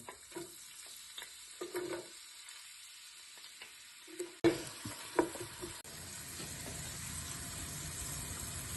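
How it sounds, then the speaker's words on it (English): Onions drop into hot oil in a pan and set off a steady, close sizzle that continues under a few stirring knocks, following quieter clinks before the onions go in. "Right, I've just added the oil in and now I'm going to add the onions in."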